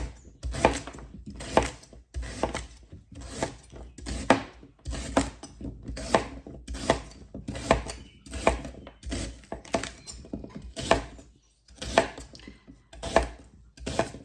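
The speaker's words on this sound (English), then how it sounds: "now I just chop it up into little pieces, about that big" Rhubarb stalks being chopped into small pieces with a knife on a cutting board, a steady series of sharp knocks in quick bursts, close and clear with no talking.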